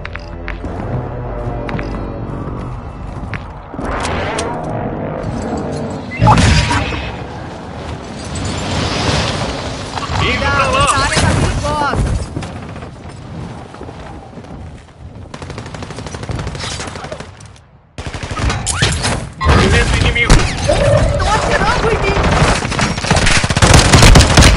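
Call of Duty gunfire in heavy bursts: rapid machine-gun fire and scattered single shots crackle loudly and near throughout, with short lulls between volleys and a brief drop to near silence partway through.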